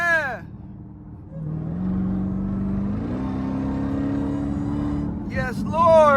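A 707 hp Jeep Trackhawk accelerates hard in Miami street traffic, its engine note and supercharger whine climbing in steady stepped pitch through the gears, with excited voices talking over the start and end.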